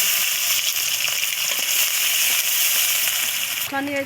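Sliced onion frying in hot oil for a Bengali fish dish, a loud, dense, continuous sizzle with crackling bursts, close by, and a voice speaking briefly at the very end.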